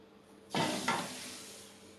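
Sugar syrup of sugar and water stirred in a large pot on the stove, a spoon scraping and swishing through the liquid in two close strokes, loud and near, then trailing off into a soft bubbling hiss.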